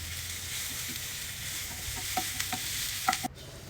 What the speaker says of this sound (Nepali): तेलमा लसुन प्याज खुर्सानीलाई जाने रातो हुन्जेलसम्म एकछिन पकाएँ।